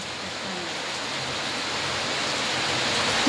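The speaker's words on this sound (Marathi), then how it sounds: "पाऊस बंद होत नाही." Heavy rain pours down in a dense, unbroken hiss that stays loud and even throughout, with no voices.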